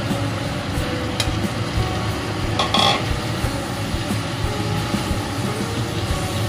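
Fried chicken pieces are stirred into onion and capsicum in a hot pan for dry chilli chicken, giving a steady dense sizzle with a couple of brief metallic scrapes and clinks from the utensil.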